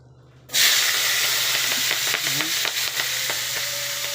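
Bay leaves and whole spices hit hot oil for aloo dum, a sudden loud hiss that settles into a steady, crackling fry with light stirring.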